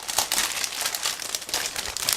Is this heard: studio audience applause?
no